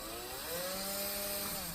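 A power drill with its bit runs free after boring through an RPM A-arm for a Traxxas X-Maxx, giving a steady, close motor whine that swells slightly in the middle and holds for under two seconds, with no talking.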